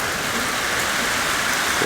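Heavy rain pours steadily outdoors during a prolonged flood-level downpour, a dense continuous hiss of water on surfaces, loud and close with no pauses.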